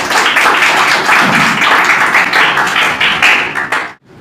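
An audience at a Teachers' Day school program breaks into dense, sustained applause, loud and close, holding steady for several seconds before cutting off abruptly near the end.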